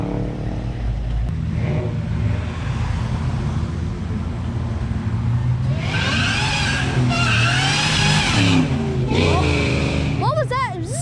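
A supercharged car engine at a burnout gathering revs loudly in rising, whining sweeps over a constant rumble of crowd and traffic noise, with voices talking throughout.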